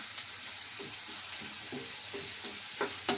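Onions and green chillies fry in oil in a pan, a steady close sizzle with occasional soft scraping stir sounds.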